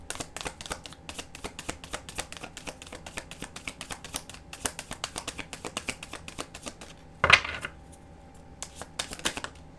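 Tarot cards being shuffled and drawn, a fast run of crisp riffling clicks and flicks for several seconds, a brief pause, then one sharp louder snap of cards followed by a few more taps, close by with no talk.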